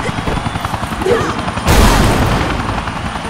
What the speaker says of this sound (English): Take me to the chopper.